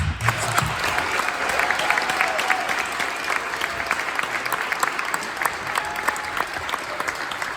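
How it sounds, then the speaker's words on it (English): A large audience at a New York event applauds loudly and steadily, dense clapping with scattered cheers filling the whole stretch without pause. "Ladies and gentlemen, please give a massive round of applause."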